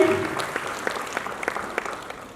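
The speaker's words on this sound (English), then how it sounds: "A loud round of applause for each one of them." Applause from a school audience after a Grade 4 stage performance of Aladdin, scattered claps fading out over a couple of seconds with a faint voice at the start.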